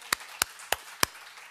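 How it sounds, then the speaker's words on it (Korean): Four sharp, evenly spaced claps from a church gathering at a patriotic prayer meeting, close and distinct with quiet gaps between them, rather than a full round of applause. "박수를 하나님께 돌리겠습니다."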